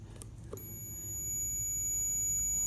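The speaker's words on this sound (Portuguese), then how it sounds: "Tá vendo? Bipou também." A multimeter on continuity gives a steady, faint high-pitched beep while probing the stator and pulse coil wiring of a 2006 Yamaha YBR 125, sounding continuously after a brief click.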